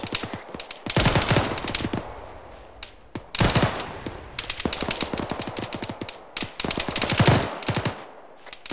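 Rapid bursts of gunfire from a military squad video game ring out loud and close, with repeated automatic volleys separated by brief lulls.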